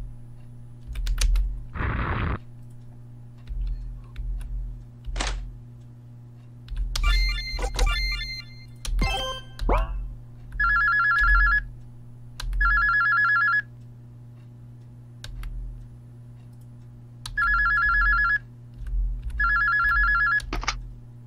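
A telephone rings in a Japanese RPG Maker horror game set in a kidnapper's house, repeated paired electronic trills in short bursts, loud and clear, mixed with other game sound effects and keyboard-like clicks.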